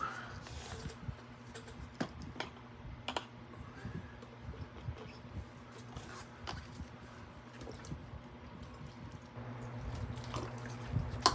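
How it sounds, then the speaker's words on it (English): Alcohol being poured into a cup at a toy-cleaning table, a quiet liquid trickle with small drips and occasional clicks over a steady low hum. "Pour some alcohol in my cup."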